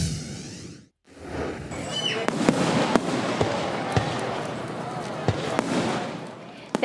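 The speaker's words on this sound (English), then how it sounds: "Thousands of families came out to Morrisville last night to enjoy the town's 4th of July fireworks." Fourth of July fireworks in Morrisville crack and pop in repeated sharp bursts over a rumbling background, moderately distant, with crowd noise around them.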